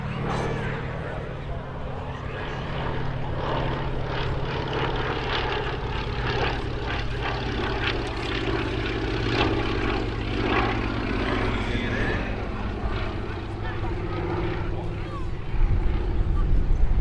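A Fairey Swordfish WWII propeller biplane flies at the Midlands Air Festival 2026, its engine droning steadily and loudly throughout and swelling near the end, while a commentator talks over it.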